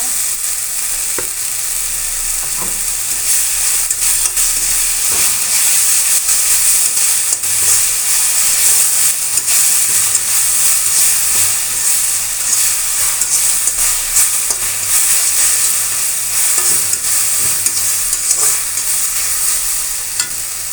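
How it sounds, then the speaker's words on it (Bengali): Pointed gourd and jute leaves sizzle and fry steadily in a pan for the whole stretch, with a constant bright hiss and occasional scrapes and knocks of a spatula stirring them, close up and without talk. "এই তো নাড়াচাড়া করা হচ্ছে প্রায় ভাজা হয়ে গেছে"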